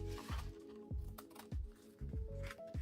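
Scissors snip through paper for a handmade accordion journal, four or five quiet, close cuts in an even rhythm with soft crunching between them.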